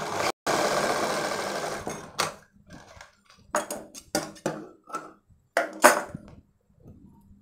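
A sewing machine stitches a baby frock in short bursts of rapid, close mechanical whirring, starting with one long run and then several brief stop-start passes with quiet gaps between.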